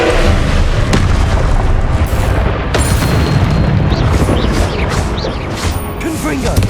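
Confringo fire spell blasts in Hogwarts Legacy, loud booming explosions with crackling fire and debris over sustained low rumble, several sharp bursts spaced across the stretch, with speech mixed in.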